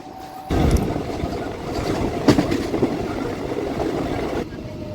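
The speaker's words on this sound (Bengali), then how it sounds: "আমাদের ট্রেন এসে পৌঁছালো পরবর্তী স্টপেজ দিয়ারাতে।" A Howrah–Tarakeswar local train pulls into Diara station, heard from on board as a steady loud rumble with clanks and rattles, one sharper knock partway through, then a quieter end.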